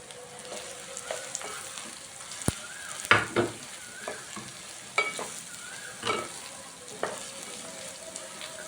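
Sliced bitter gourd frying in oil in a pan, a steady close sizzle broken by occasional scraping stirs and clinks of a utensil, with no talking.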